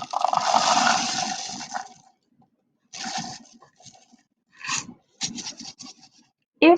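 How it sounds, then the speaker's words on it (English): Dry rice pours from a cup into a shaker made from a paper towel roll, a dense rattling rush followed by a few shorter trickles and scattered grain clicks, close by with no voices. "Once you have your rice in your cup, you are going to then pour it into your shaker"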